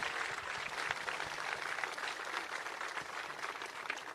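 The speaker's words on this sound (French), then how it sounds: "Another round of applause for the fabulous choir." A ceremony audience claps for a choir from the Conservatoire de Toulon-Provence-Méditerranée at a welcome event for the Springboks. The applause is dense and sustained, and no voices come through.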